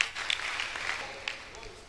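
A church congregation clapping during a lively service, a brief spatter of hand claps blended with a talking voice and room noise.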